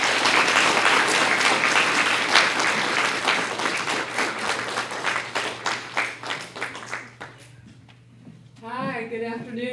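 A large audience claps for a speaker at a 2014 conference, dense loud applause that thins into scattered claps and fades, before a voice begins speaking.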